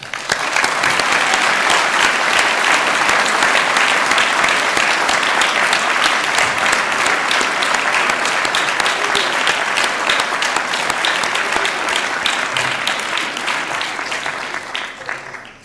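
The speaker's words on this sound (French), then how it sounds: "je vous demande de les applaudir tout simplement" A large audience at a Soustons town gathering applauds steadily and loudly for about fifteen seconds, dense clapping with no pauses that tapers slightly at the very end.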